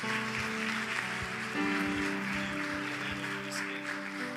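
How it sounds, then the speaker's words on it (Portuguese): A church congregation applauds, a steady wash of clapping mixed with sustained music, moderately loud and ongoing throughout. "Você pode aplaudir bem forte ao Senhor Jesus."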